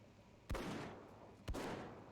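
Two pistol shots in the video game Dreadlands, about a second apart, each a sharp loud bang followed by a long rumbling decay, with no voices.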